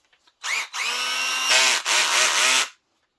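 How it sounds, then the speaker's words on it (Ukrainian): A Kraissmann 4 AMT-S1 20UL cordless screwdriver from a multi-tool kit spins up in three short bursts, a close, loud motor whir with brief pauses between runs. "Ну, і це у нас працює шуруповерт."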